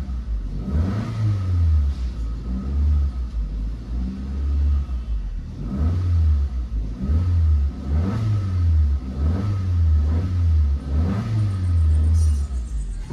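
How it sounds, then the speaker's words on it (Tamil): Suzuki Ciaz engine, likely with a worn engine mount, revving repeatedly in rhythmic bursts with a deep rumbling throb and shaking body vibration, loud and close, with no talking. "இந்த மாதிரி ஆக்சிலேட் கொடுக்கும்போது வந்து பார்த்தீங்கன்னா பாடி உள்ள ஒரு தர் தர்னு வைப்ரேஷன் வரும்"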